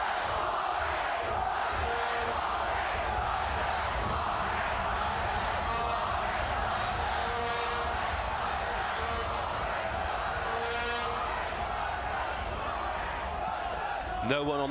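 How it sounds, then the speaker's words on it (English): Spectators at an under-15 schools rugby semi-final between Brighton College and Warwick School raise a sustained roar of shouting and chanting around the pitch, steady and fairly distant, with a commentator talking over it. "As the crowd find their voices."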